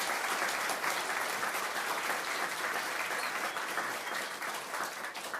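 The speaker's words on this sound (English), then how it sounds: "I want to give them another round of applause" Loud, sustained applause from the audience at a military change of command ceremony, dense and steady throughout, with a brief spoken line over it.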